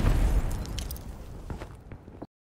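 Grenade explosion in Modern Warfare Remastered, a heavy low boom that starts right away and fades over two seconds into rumbling debris and faint scrapes, then cuts off abruptly.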